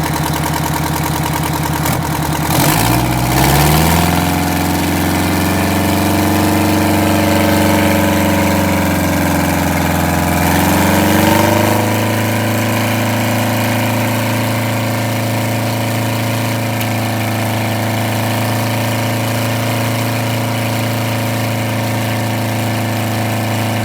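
A Detroit Diesel 8V92TA engine in a Wanderlodge RV idling with a steady low drone, revved twice in brief surges that swell and then settle back to a smooth, loud idle throughout.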